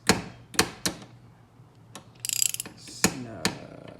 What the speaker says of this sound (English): Now you're gonna want to go through with your ratchet